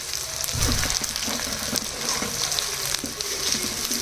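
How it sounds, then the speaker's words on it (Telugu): Eggs frying in oil as garlic chili powder is mixed in, a dense continuous sizzle and crackle with light stirring, close and steady. "ఈ వెల్లుల్లి కారం వేసేసుకోవాలి కలపాలి"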